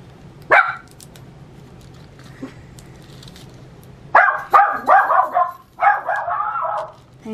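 A dog barks in short bursts: one sharp bark near the start, then a rapid series of loud, close barks and yips toward the end, with no talking over them.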